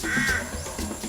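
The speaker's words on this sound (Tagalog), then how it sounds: "Hindi maituturing na himala ang kaso ng Philippine Jungle Crow o uwak ng si Waray" A white Philippine jungle crow with albinism gives a single short, harsh caw, close and fairly clear over a faint background.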